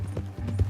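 Horse hooves clip-clop in Red Dead Redemption 2, a quick run of close, steady thuds over a low rumble.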